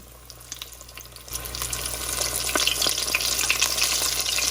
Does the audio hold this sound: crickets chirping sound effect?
no